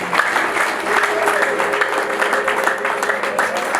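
A church congregation claps and applauds in a dense, steady wash of hand claps that stays loud throughout, with faint voices mixed in under it.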